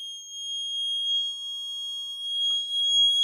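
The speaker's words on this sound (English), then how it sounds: "here you can hear, the sound from the buzzer is increasing" A high, steady electronic buzzer tone from a liquid conductivity test rings continuously, thin and piercing, with a faint click partway through and no voices.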